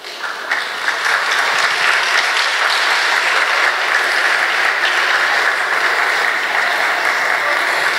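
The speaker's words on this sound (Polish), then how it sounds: "Proszę o brawa." An audience at a choir and adult folk ensemble festival in Tuczna claps steadily for a village group, applause swelling in quickly and holding dense and loud throughout with no talk over it.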